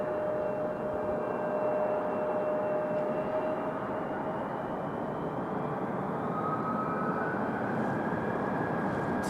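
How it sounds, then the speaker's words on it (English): A Southwest airliner arriving from Fort Lauderdale at Raleigh-Durham airport gives a broad, steady jet roar that holds loud and even throughout, with a faint whine drifting overhead and no voices. "So next is Southwest 3161 coming in from Fort Lauderdale."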